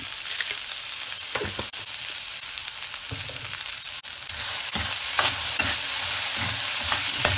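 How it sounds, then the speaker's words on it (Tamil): Okra (lady's finger) sautés in a pan with rock salt for a Tamil pachadi. A loud, steady sizzle fills the clip, broken by repeated spatula scrapes and stirs that grow more frequent toward the end, with no voices. "இது வதங்கட்டும்"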